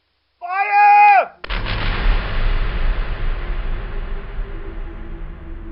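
A firing squad's rifle volley fires as one loud, sharp crack right after a shouted command, then rolls away in a long, fading echo.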